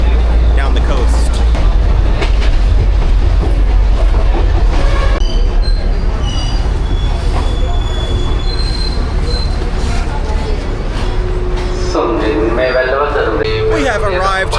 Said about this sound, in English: Better view for a quick train ride down the coast.